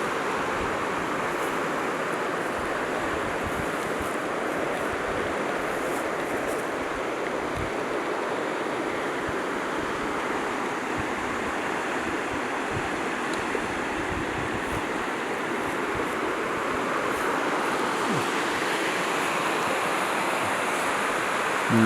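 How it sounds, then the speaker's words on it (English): A river flowing down from the Mount Adams area near Takhlakh Lake rushes in a steady, broad wash of water noise, unbroken and fairly close for the whole stretch, with no voices. "this is one of the rivers coming down from Mount Adams area"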